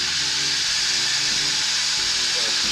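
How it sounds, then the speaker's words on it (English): A woodturning lathe spinning a laminated sycamore bowl blank, giving a steady mechanical hum with a bright airy hiss, close and continuous with no talk. "So I'm going to start the lathe"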